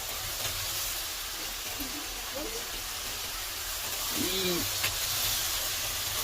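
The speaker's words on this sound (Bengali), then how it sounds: "এবার দিয়ে দেবো মাংসটা।" Meat going into a pan of fried, reddened spice paste sets off a steady, bright sizzling hiss that carries throughout, with a brief spoken word partway through.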